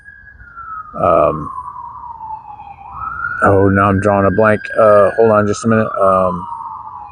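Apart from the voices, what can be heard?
emergency vehicle sirens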